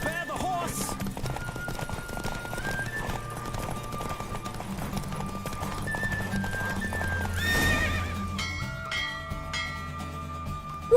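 Rapid hoofbeats of a galloping horse in a race in the video game The Witcher 3: Wild Hunt, with a loud neigh partway through, over a steady musical backdrop.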